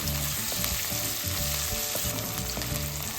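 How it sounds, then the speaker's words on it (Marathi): Cauliflower sautés in oil over high gas heat, a constant loud crackling sizzle with rhythmic spatula stirs and clatter against the pan, close up and without speech. "फास्ट गॅसवरतीच भाज्या परतून घ्यायचं आपण हे फ्लावर याचा तेलात परतल्यावरती"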